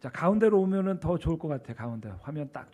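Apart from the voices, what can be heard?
No distinct noise like a dog, phone or traffic.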